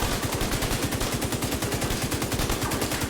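Continuous rapid gunfire from the shooter game The Division 2, a dense, loud, unbroken rhythm of closely spaced shots lasting throughout.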